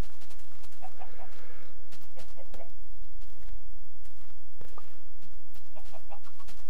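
Minecraft chickens cluck in short bursts over a constant low game hum, with a few soft taps and clicks scattered throughout.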